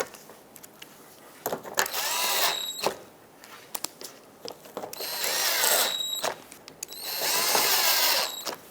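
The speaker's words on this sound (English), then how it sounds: "Put in all the screws that hold this on." Power drill driving screws into the grille shield of a 2014-2021 Mazda 6, three loud whirring bursts of a second or two each, separated by brief clicks and handling sounds, close up with no talking.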